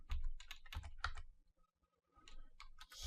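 Code being typed on a computer keyboard, with bursts of quick key clicks separated by a short pause, close and fairly loud with no talking.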